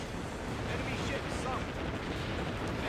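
Naval gunfire from AGS guns aimed at a group of enemy ships in the video game Warship Gunner 2, a dense continuous rumble of blasts and explosions with a commentator's voice over it.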